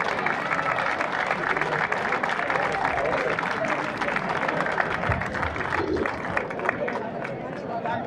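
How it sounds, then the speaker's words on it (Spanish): A village crowd at the San Felipe fair in Barruecopardo applauds the Mellado Martín brothers, with dense, continuous clapping filling the whole stretch and a murmur of crowd chatter and voices mixed in. "pido un aplauso para ellos"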